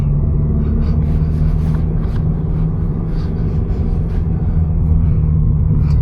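A lowered Subaru BRZ on coilovers drives over rough road, filling the cabin with a loud, constant low rumble of engine and road noise, with faint thumps and rattles over the bumps.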